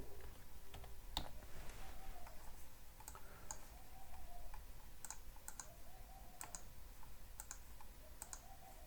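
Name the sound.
typing text on a computer keyboard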